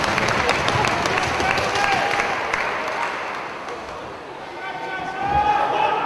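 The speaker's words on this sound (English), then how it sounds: "The fans clapping along, trying to get behind Smothers." Crowd at a 1PW Devils Due 2006 wrestling show clapping along in a dense, steady wash of applause filling the arena, dipping briefly before swelling again, with a commentator talking over it.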